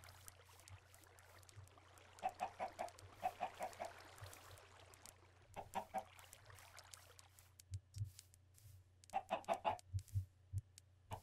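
Repeated clucking from Minecraft chickens comes in clustered bursts over a constant low game hum, with soft taps and clicks between the calls and no talking.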